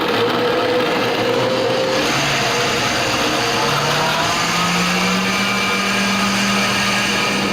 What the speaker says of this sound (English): I'm literally going to let the blender do all the work for me